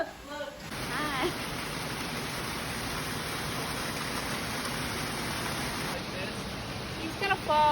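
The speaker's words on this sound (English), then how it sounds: "Waterfall." Steady broadband rush of a waterfall in a cave-like spot with spider webs hanging from the ceiling, loud and continuous for most of the stretch, with a voice and other talking faintly over it near the start and end.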